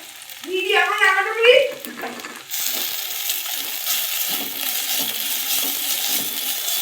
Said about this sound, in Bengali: পোস্তটাকে একটু ভেজে নেব